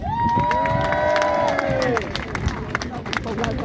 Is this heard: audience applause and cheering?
yes